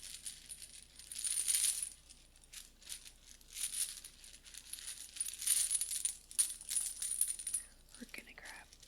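A handful of little metal tarot charms from a Charm Cast Tarot set rattle and clink as they are shuffled, repeated jingling bursts over several seconds, close and quiet, with a faint whisper of a voice near the end.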